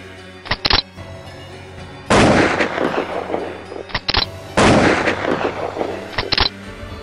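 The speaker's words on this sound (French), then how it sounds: "le soldat épaula son arme et la tua" Three sharp gunshots from a soldier's rifle, each a loud crack followed by a long rolling echo, spaced about two seconds apart with no talk.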